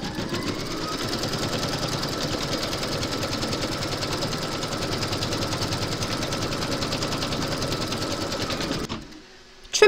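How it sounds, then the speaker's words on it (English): An embroidery sewing machine stitches through batting held in a hoop, making a loud, fast and steady mechanical whirr that runs unbroken for about nine seconds and then stops abruptly. "Pop your hoop into your machine and stitch round number two to secure it."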